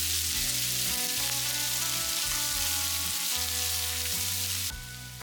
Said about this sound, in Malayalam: നല്ലവണ്ണം വഴറ്റിയെടുക്കാം.